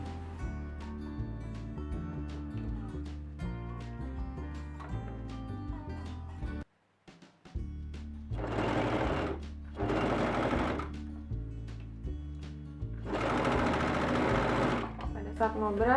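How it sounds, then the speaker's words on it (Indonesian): An overlock sewing machine stitches a garment sleeve with a fast, loud, steady mechanical whirring, running in bursts with one brief stop near the middle, under continuous talk. "setelah dijahit kayak gini baru tinggal kita obras."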